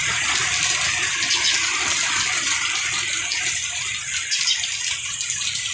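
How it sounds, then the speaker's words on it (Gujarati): Heavy summer rain pours down in a steady, dense, loud rush of falling water with no talk. "ભર ઉનાળે વરસાદ"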